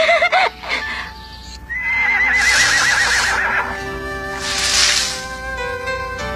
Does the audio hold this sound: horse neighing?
yes